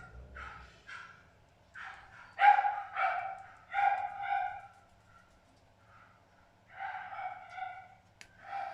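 Several dogs bark and yip in bursts, some a bit distant, with short pauses between volleys and a couple of high whimpering notes.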